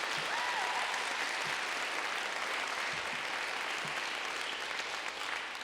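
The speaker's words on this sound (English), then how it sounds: "let's give them a round of applause" Sustained applause from an audience at a youth poet laureate celebration in Santa Cruz County, a dense, steady wash of clapping that fills the room for several seconds and eases slightly toward the end.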